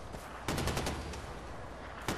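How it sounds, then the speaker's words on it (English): Rapid gunfire from weapons shot into the air in Far Cry 4, a dense burst of loud overlapping shots in a noisy game mix, with no talking. "Stop shooting at the air."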